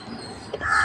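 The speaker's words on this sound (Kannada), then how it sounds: "ಕಾಗೆ" A crow gives a single short caw near the end, close and fairly loud, after a moment of quiet household background.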